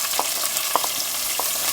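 Chopped onion tipped into a pan of hot oil with sizzling cumin seeds for a quick chicken curry, giving a steady close sizzle broken by a few sharp crackles and pops, with no talking.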